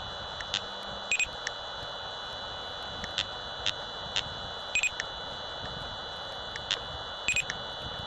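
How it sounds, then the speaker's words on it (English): Whistler Pro 78 radar detector mounted on a car windscreen giving a laser alert, a faint series of short high electronic beeps in small irregular clusters over a low steady cabin hum. "Laser detection test at 50 metres for the Whistler Pro 78 mounted low and central on the windscreen."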